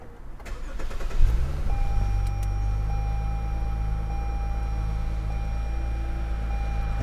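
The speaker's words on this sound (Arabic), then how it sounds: "شغل لكم السيارة" A 2018 Lexus GS350 cranks briefly and fires up, settling into a smooth, steady idle heard close from the cabin, with a soft chime tone running over it.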